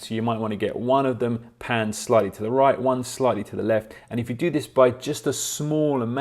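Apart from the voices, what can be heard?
No everyday noises stand out.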